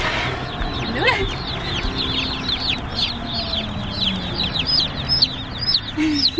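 Many turkey poults chirp in a dense, continuous chorus of high peeps, with brief handling noise and a low voice partway through.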